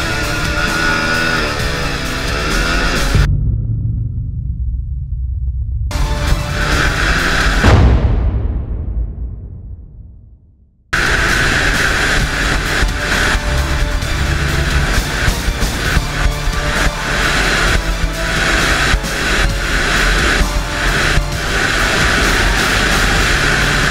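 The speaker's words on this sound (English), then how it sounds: "the national champion atop an RC 390 testing for a speedo indicated 0 to 60, 0 to 100, and then of course a top whack" A KTM RC 390 motorcycle accelerates hard on a test track, its engine a loud rising drone that briefly drops out, then sweeps down and returns as a sustained high-revving roar.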